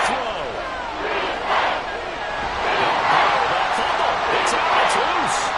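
A football stadium crowd roaring on third and long, a loud sustained wall of cheering and shouting that swells and peaks, with a commentator talking over it.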